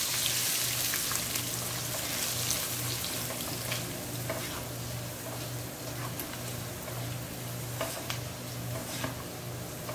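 Onions and ginger-garlic paste fry steadily in a pan, a dense, even sizzle with a low hum running beneath it and occasional soft clicks of stirring, all without any talk.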